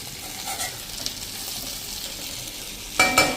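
Stuffed gunda vegetables cook in a pan over a slow flame, giving a steady close hiss of frying, with a burst of utensil clatter and stirring near the end.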